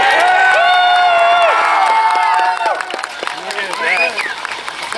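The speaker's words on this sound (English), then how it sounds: "Give him this applause." Crowd at a car burnout event claps and cheers loudly for a couple of seconds, then the noise thins into scattered shouts and voices.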